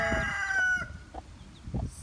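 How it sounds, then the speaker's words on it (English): Newly hatched baby chickens cheep and chirp, with a few high, clear peeping calls up close at first, then softer scattered chirps over low background rustling. "we got 3 perfectly healthy baby chickens"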